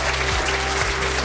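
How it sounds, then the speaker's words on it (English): Audience at the Norfolk Care Awards applauds steadily as award winners leave the stage, a brief dense burst of clapping over a low electrical hum. "Well, give them another nice round of applause, Suncourt, as they leave the stage."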